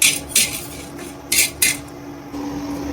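Chana dal, peanuts, green chilli and garlic roasting in a home kitchen pan, stirred with a metal spoon: several sharp scraping clatters in short bursts over a steady low sizzle, close and clear with no talk.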